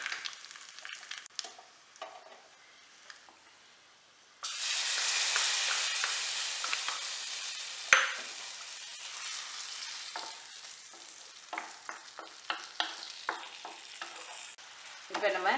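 Dried red chillies and mustard seeds frying in a spoonful of oil for Kerala-style inji puli, a steady close sizzle that swells when the chillies go in, with scraping stirs and small crackles throughout.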